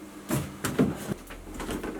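A kitchen freezer drawer slides open and shut, giving a few soft thuds and rumbling slides in quick succession, close and moderately quiet.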